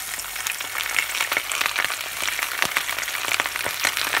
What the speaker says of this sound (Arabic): طبعا هسه اصدقائي راح نبدي بقلي السمك